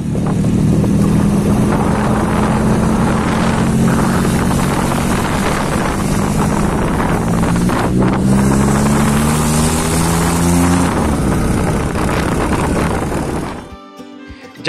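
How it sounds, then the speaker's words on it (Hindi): A homemade motorcycle powered by a Maruti car engine runs loudly and steadily, its droning engine note rising and falling with revs amid wind buffeting, then cutting off abruptly near the end. "उस मारुति कार के इंजन तो उन्होंने एक मोटरसाइकिल तैयार कर दिता।"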